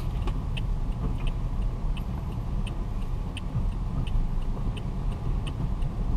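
A manual car pulling off in first gear, heard from inside as a steady low engine rumble with faint regular ticking, unbroken and close for the whole stretch.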